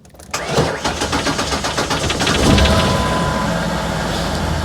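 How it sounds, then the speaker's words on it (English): A 2003 Ford Explorer engine cranks with rapid rhythmic starter pulses, then catches and settles into a loud, steady idle close by, after the fuel pump inertia switch had tripped. "I'm gonna put the key in and try to start it now."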